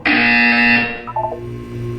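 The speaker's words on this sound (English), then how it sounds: "When you hear the buzzer, look up at the ceiling." Electronic buzzer from the Portal 2 video game, a loud steady harmonic tone lasting about a second, then a short stuttering pulse before fading.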